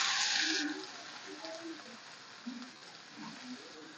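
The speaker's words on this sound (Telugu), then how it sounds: "ఆయిల్ వేడైన తర్వాత మనం ఆనియన్స్ వేసేసుకుందాం." Chopped onions dropped into hot oil in a home kitchen pan while cooking an egg fry, giving a steady close sizzle that is loudest at first and then settles into a softer continuous crackle with small stirring bumps.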